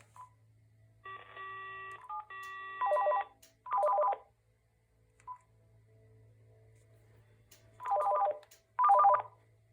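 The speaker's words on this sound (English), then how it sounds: "That's such a wonderful ringtone." An electronic ring from a two-line corded/cordless phone base sounds in two short warbling bursts, then again after a pause, preceded by a few faint beeps and tones.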